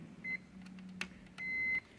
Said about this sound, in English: we've got the multimeter set up in beep mode